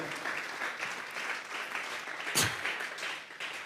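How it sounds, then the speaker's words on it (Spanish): Church congregation applauding together, a dense, steady wash of many hands clapping throughout, with one sharper burst near the middle and no voices standing out. "Vamos a regalarle ofrenda de palmas al Dios de la gloria."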